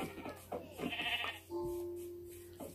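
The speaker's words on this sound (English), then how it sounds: "There's two sheep." Sheep bleat in a video game while exploring near a village, a couple of short wavering calls followed by a longer sustained bleat, fairly close and clear over quiet game ambience.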